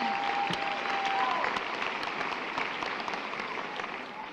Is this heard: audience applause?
yes